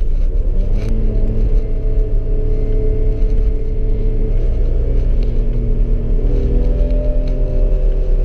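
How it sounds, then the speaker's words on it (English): A 1991 BMW 525i E34 engine pulls at full throttle in second gear, a loud steady drone with rising harmonic tones as the revs climb, heard from inside the car. "Second gear, you see 500 RPM, full throttle, and the car is very responsive."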